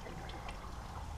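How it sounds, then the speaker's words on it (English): Water trickles and runs steadily through outdoor NFT hydroponic channels built for growing beans and peas, a close, constant wash of flowing liquid with no talk. "I hear water going to the end."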